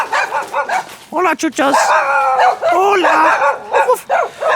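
Several dogs bark and yip near a garage under renovation, in repeated close bursts, while a person talks briefly over them.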